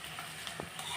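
Finely chopped onions fry in a pan for a Malabar prawn dish, making a steady soft sizzle with a brief stirring scrape in the middle.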